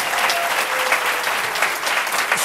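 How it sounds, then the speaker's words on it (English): A large crowd at a New York governor's event applauds a historic offshore wind turbine energy project. The clapping is dense and continuous, a loud, even wash of sound with no talk heard. "Let's give that a round of applause"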